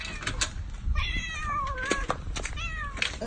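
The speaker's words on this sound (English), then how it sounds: "This is my cat, Coco." A pet cat meows several times in quick succession, close and clear, with drawn-out rising and falling cries over faint room noise.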